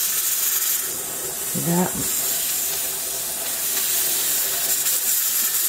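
A pressure canner hisses steam on a stove while meat is being canned, a steady close broadband hiss, with someone speaking briefly over it partway through.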